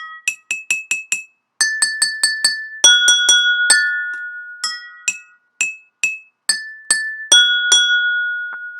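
Water-filled glassware struck in turn as a homemade glass xylophone, ringing out clear bell-like pitched clinks in quick runs and single notes, each tone decaying briefly, close and fairly loud with no talking.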